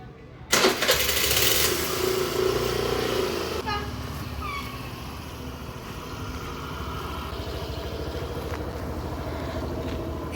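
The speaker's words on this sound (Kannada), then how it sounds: "ಇಲ್ಲಿ ಗಾಡಿ ತೆಗಿತಿದ್ದಾರೆ." A vehicle engine starts up with a loud burst, then settles into a steady idle that runs on, heard close by as it is brought out on a festival day.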